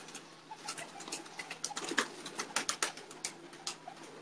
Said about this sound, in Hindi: बहुत बड़ा कबूतर है